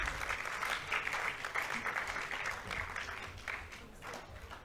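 An audience claps steadily to welcome Shefali Vaidya to the stage at a talk session, a sustained wash of applause that swells and eases slightly over several seconds with no one speaking.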